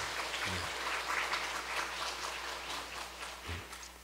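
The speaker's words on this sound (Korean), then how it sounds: "우리 기도의 약속으로 크게 박수하며 축복하겠습니다." A church congregation claps warmly at a Sunday worship service, a soft, dense patter of many hands held at a fairly even level throughout.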